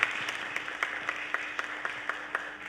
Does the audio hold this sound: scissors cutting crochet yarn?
no